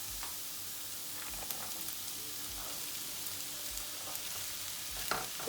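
Rice tipped into a hot pan and stir-fried for pork and egg fried rice, giving a steady soft sizzle with occasional scraping stir strokes, close and fairly quiet, no talking.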